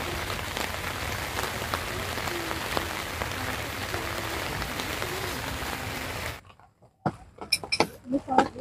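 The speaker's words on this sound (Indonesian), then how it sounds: "Ini kebetulan hujan, tadi pas sudah selesai dipasang langsung hujan" Rain falls steadily on tents at the Wanasari campsite in Pangalengan, a dense even patter that cuts off abruptly, followed by a few sharp knocks and rustles.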